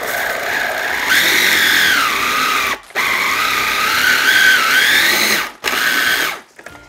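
A small food processor whirs loudly while blending salami roll-up filling, running in steady bursts of about three seconds, with two short pauses and a final cutoff.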